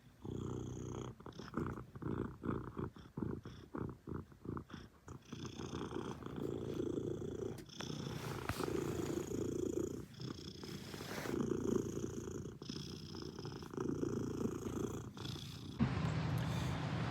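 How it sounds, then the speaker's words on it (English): A cat named Mitt purrs loudly while napping, a close rhythmic rumbling purr with snore-like breaths that carries on steadily throughout. "It's a loud purr"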